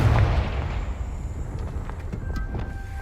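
A Confringo blasting spell detonating in Hogwarts Legacy, a sharp explosive burst that quickly falls into a rumbling tail of crackles and debris-like pops.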